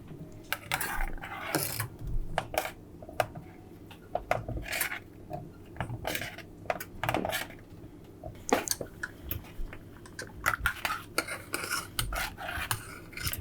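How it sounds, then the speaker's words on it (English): Chocolate pie filling stirred in a pot, with repeated close scraping and clinking of a utensil against the metal, an irregular rhythm of sharp taps and scrapes over a quiet background. "you've got to stir this almost constantly, because otherwise it will start to stick to the bottom"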